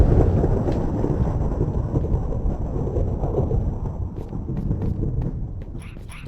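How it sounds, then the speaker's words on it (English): Thunder rolls through a video game world as a long, loud low rumble that fills the whole stretch and fades slightly toward the end, with faint crackles on top. "Hopefully that was the last of the thunder,"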